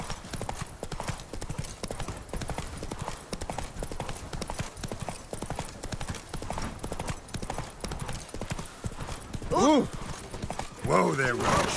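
Horse Roach trotting with steady clip-clop hooves in The Witcher 3, rhythmic and close, with a whinny near the end and game dialogue voices over the hoofbeats.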